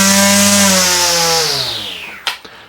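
A battery-powered trimmer winds down from a high whine, its pitch sliding steadily lower as the motor slows, ending with a couple of brief clicks or knocks.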